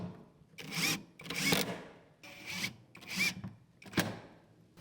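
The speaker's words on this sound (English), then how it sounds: "I'm going to be using some 2-inch Torx head screws to get this into position" Power driver sinking 2-inch Torx head screws through the flange of a vinyl window into a workshop wall frame, five short whirring bursts with brief pauses between, fairly close and clear.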